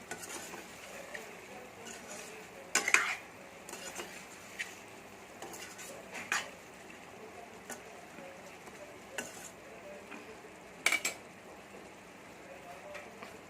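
Chicken gravy bubbling gently in a pot while a spoon stirs it, with scattered sharp clinks of the utensil against the pot rim over a soft continuous sizzle.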